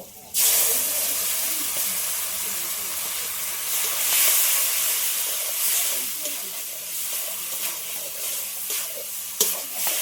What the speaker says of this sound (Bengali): আমটিটা হালকা করে ভেজে নেব